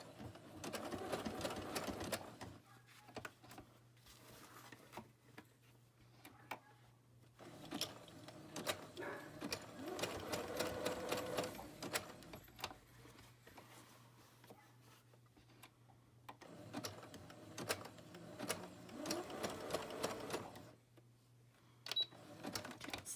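A sewing machine zigzag-stitches sari silk patchwork pockets for a boho journal, running in several rapid mechanical bursts of whirring and clattering, separated by short quiet pauses, close up with no talking.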